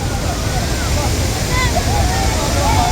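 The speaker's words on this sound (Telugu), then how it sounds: "వచ్చావు అత్తిరేపల్లి వాటర్ ఫాల్స్కి." Athirappilly waterfall in Kerala roars as a steady, loud, unbroken wash of falling water, with faint voices talking over the rush.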